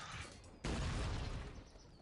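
Cannon fire in the strategy game Cossacks 3: a single heavy boom lands abruptly partway through, its rumble sustaining and slowly fading over continuous battlefield noise.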